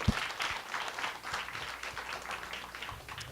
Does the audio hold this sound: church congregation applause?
yes